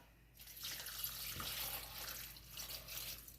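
Water pours steadily into a pot nearby, about four cups, a splashing, gurgling stream lasting a few seconds.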